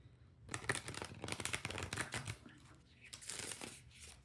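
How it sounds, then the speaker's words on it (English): A deck of playing cards is shuffled with a steady, papery riffling that rises and falls for a few seconds, fairly quiet and without talk. "So I've been shuffling these up."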